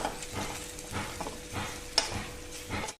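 Close, crackling sizzle of spices frying in a pan for a fish curry, with repeated scraping stirs and a brief clink near the end; no voices.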